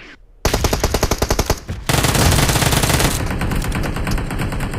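Rapid automatic gunfire in the PUBG Mobile shooter game, loud bursts of closely spaced shots followed by a sustained dense stream of fire, heard alone with no talking.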